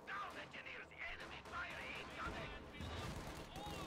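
Dense gunfire and explosive bursts in Company of Heroes 2 as Panzer Grenadiers charge into heavy fire, steady crackling shots layered throughout with a few heavier booms.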